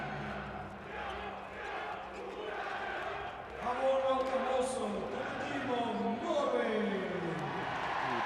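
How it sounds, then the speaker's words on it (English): Norwegian fans in an arena at a women's EHF EURO 2012 handball semi-final against Hungary, a broad crowd roar that swells and rises in bursts, with a commentator talking over it. "Big cheer from the Norwegian fans."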